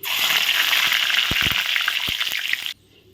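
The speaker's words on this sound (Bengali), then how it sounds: "এখন তেলে আমি ফোড়ন দিয়ে দিব তিনটে শুকনো লঙ্কা দুটো গোটা তেজপাতা আর দিয়ে দিব জিরে" Dried red chillies, whole bay leaves and cumin seeds hit hot oil with a loud, steady frying sizzle that runs for nearly three seconds, dotted with small pops and crackles, then cuts off abruptly.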